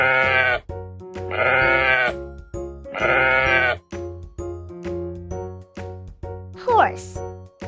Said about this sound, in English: Sheep. Can you say